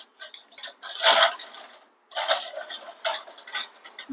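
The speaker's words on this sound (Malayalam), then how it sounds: "സ്പൂണുകൾ പ്ലാസ്റ്റിക് സ്പൂണ് സ്റ്റീലിൻ്റെ സ്പൂണ് ഫോർക്ക് എല്ലാം കൂടെ നമുക്ക് ഇതേപോലെ കഴുകിയെടുക്കാം" Plastic and steel spoons and forks clatter and clink together while being washed by hand, a close, busy jangle of cutlery in irregular bursts with a brief pause midway.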